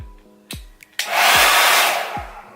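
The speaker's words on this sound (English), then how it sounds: "Okay, so here is my handy dandy blow dryer. Nothing special, just a Conair one" Conair blow dryer set on warm high, switched on after a few clicks and handling thumps, then a loud steady close-up whooshing roar that holds for over a second.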